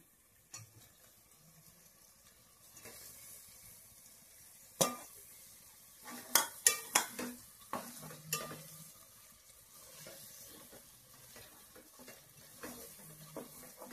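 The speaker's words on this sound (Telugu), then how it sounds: "ఇప్పుడైతే టమాటాలు అయితే వేస్తున్నాను." Tomatoes dropped into hot oil with ginger-garlic paste for a snail curry, a soft sizzle punctuated by sharp clinks and scrapes of a spoon stirring in the pan, fairly quiet and close.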